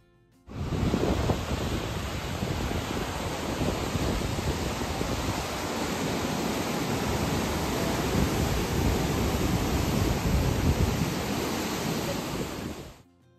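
Large river in Cambridge, Canada swollen with snowmelt floodwater at winter's end, a steady, loud, broad rushing roar that holds unbroken for over ten seconds with no voices.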